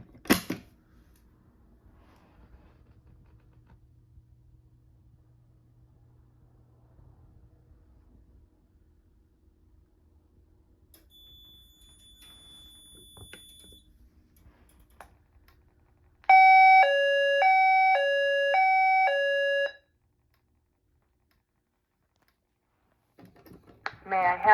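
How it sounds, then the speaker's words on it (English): A Notifier AM2020 fire alarm panel sounds a loud, steady alert tone of repeating stepped chimes for about three seconds, following a quiet stretch with a faint low hum and a brief high beep. "An alarm has been activated in the building."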